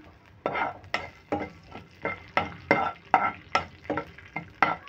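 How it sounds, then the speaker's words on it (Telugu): Garlic cloves, mustard seeds and chana dal frying in oil while a spatula stirs and scrapes the pan in a rhythm of about ten strokes, each a short scraping burst over a soft sizzle. "ఈ వెల్లుల్లి రెబ్బలు ఫ్రై అవుతూ ఉండగానే ఇదిగోండి ఆవాలు, శనగపప్పు ఈ విధంగా వేసుకుందాము"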